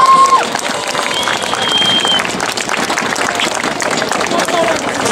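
Outdoor crowd at the Tour de Pologne finale in Kraków applauds cyclist Michał Gołaś, with sustained clapping and cheering mixed into a dense, busy hubbub of spectators and voices for about five seconds.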